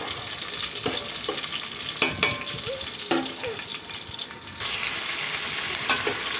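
Onions with tomato, coriander, mint and curry leaves sizzle and fry steadily in a pan, with occasional stirring clatters from a spoon over a continuous crackling hiss.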